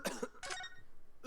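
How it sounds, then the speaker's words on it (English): A character in the Ace Attorney courtroom game gives a few short, harsh coughs in separate bursts, close and fairly loud, with quiet gaps between them and no talking. "Kinda weird to hear coughing in this game, huh?"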